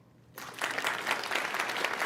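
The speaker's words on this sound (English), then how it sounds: "Give him a round of applause." After a brief quiet moment, a group bursts into applause, a short, close round of clapping that stays steady and fairly loud until the end.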